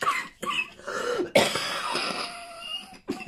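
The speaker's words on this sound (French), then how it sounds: "quand je ris, je tousse" A person coughs in several hard, close bursts with short gaps between, some rough and throaty, a brief pause near the end before another cough.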